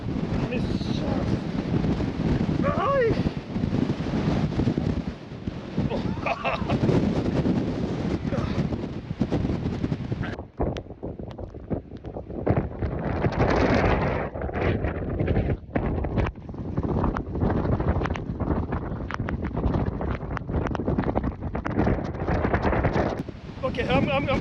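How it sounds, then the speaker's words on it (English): Strong, relentless wind buffets the microphone on an exposed hilltop on the Gaspé coast, a loud continuous roar with sharp gusts and brief lulls, and a voice speaks intermittently under it. "it's ridiculously windy up here"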